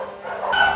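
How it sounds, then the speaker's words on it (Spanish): Several dogs bark and yip nearby in a garden, giving a short, loud burst of overlapping barks and whimpers. "mientras pase la sinfonía de los perritos"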